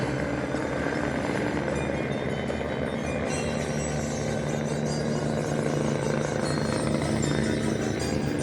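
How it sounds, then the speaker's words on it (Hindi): A helicopter taking off from a Kedarnath helipad makes a steady, loud rotor drone with a constant low hum and broadband whine, continuing without break and swelling slightly toward the end. "हर एक 5-10 मिनट में हेलीकॉप्टर निकलती रहती, छूटती रहती है।"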